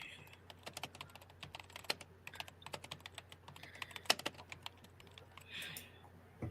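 Quiet keyboard typing with irregular clusters of soft key clicks and a few sharper taps, over a steady low hum; no one speaks.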